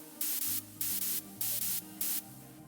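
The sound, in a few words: white noise layer with OTT and harsh high cut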